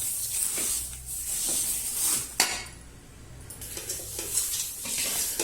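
Dried red chillies stirred in hot oil in a pan, with a continuous sizzle, scraping spatula strokes and a sharp metallic clink midway, close and fairly loud.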